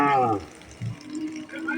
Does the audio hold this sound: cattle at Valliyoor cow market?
yes